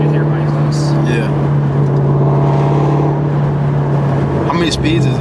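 A Shelby GT350R running on E85 holds a steady, loud exhaust drone from the cabin, with people talking over it throughout.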